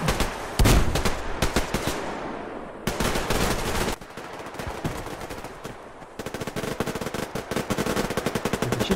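Machine-gun fire in the shooter game Survarium comes as loud, close bursts of rapid shots separated by short pauses, with steadier rattling toward the end and no voices.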